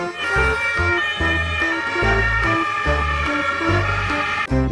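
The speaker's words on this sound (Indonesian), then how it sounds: "ini mobil ambulan" A toy ambulance siren plays loudly and alone, its repeating electronic two-tone wail cycling steadily with a buzzy, harmonic-rich tone.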